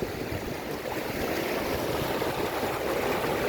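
Floodwater from Garden Route flooding rushing fast into a river, a steady broadband roar of turbulent water, loud and unbroken, with no voices.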